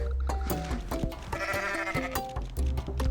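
Goat bleats in the Goat Simulator video game, several short loud cries over dense game sound and music, close and continuous throughout.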